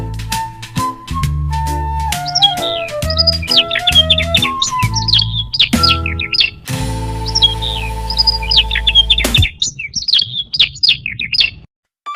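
Birds chirp and tweet in quick bursts over a bouncy nursery-rhyme musical backing, the high calls repeating throughout and continuing briefly as the music stops.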